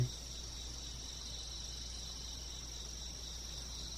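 Cicadas buzz steadily and shrilly in the background, an unbroken, even drone that holds at the same level throughout, with no talk.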